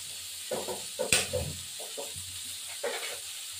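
Whole cumin seeds frying in a pan: soft bursts of sizzling and stirring scrapes come and go over a faint hiss, with one sharp clatter near the start, close and fairly quiet.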